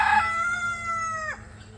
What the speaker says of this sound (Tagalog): Ito ba't may manok dito? Manok na.